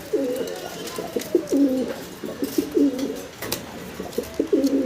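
Racing pigeons, a breeding pair kept in a loft, coo in low, repeated throaty phrases that roll on steadily through the whole stretch, close by, with no one talking.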